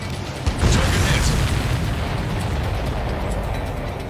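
A deep explosion booms out at about half a second in Ace Combat 7 as destroyed missiles blow apart, then settles into a heavy, sustained rumble that fills the rest of the moment, with no talking over it.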